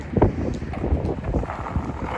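Gusty wind buffeting a microphone outdoors in Midtown Manhattan, New York City, with low rumbling thumps and uneven rushing bursts, steady throughout and without speech.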